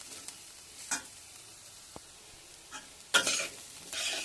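Bitter gourd stir-fry cooking in a pan, with a steady faint sizzle, a few soft stirring scrapes and a louder burst of frying and stirring toward the end, no voices.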